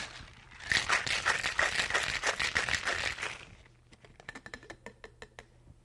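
Quick rattling shakes of a cocktail shaker mixing a White Jamaican, a dense rhythmic burst for a few seconds, then a few slower, lighter shakes before stopping.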